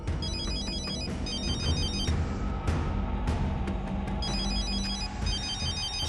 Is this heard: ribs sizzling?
no